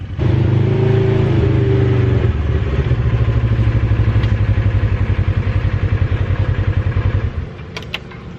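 A Polaris RZR XP1000 side-by-side engine idles and revs loudly up close on a trail in Battery Park, South Carolina, a steady pulsing throb that shifts pitch partway through and then drops off near the end.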